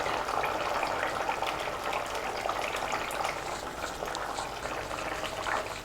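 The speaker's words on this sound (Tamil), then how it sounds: "கெட்டியான புளித்தண்ணி சேர்த்துக்கலாம்." Thick tamarind water is poured into boiling masala for a kovakkai sambar, giving a steady bubbling, hissing simmer of liquid at moderate volume, with no voice over it.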